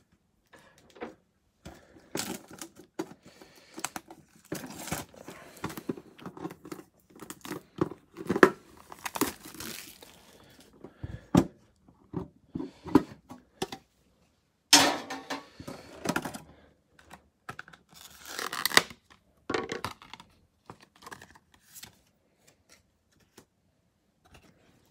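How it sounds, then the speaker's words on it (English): A Pokémon Zamazenta V tin and its card packs are ripped open up close, with bursts of crinkling foil, tearing wrappers and card shuffling that come in irregular clusters between quiet moments. "let's rip this Zamazenta tin"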